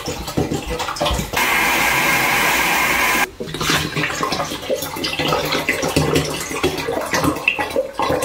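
Water pours into a container in a loud, steady rushing stream for a couple of seconds, then splashes and gurgles more unevenly afterward, close up and without speech.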